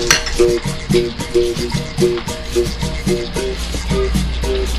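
Onions cooking in a pan for a Bahian moqueca, with a steady low sizzle under a regular, rhythmic scraping and stirring against the pan throughout, close and fairly loud.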